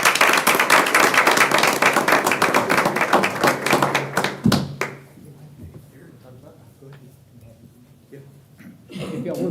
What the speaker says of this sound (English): Please give Doug and Darren a big round of applause as kind of architects on this